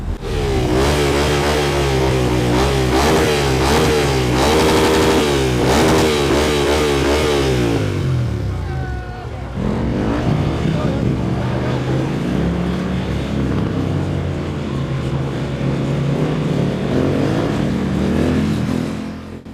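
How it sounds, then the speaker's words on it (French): Motorcycle engines rev and accelerate loudly nearby in town, rising and falling in pitch, then a steadier drone of motorbikes passing continues with faint voices underneath. "une scène avec les motos, où les motos circuleront en ville"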